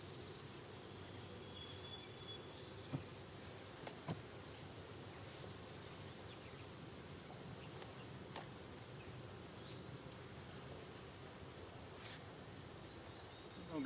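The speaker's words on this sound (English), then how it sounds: "This box looks like it's really full of bees." A continuous insect drone with a sharp high steady whine fills the air around a full bee hive box, evenly loud across the whole stretch, with a few faint knocks and no talk.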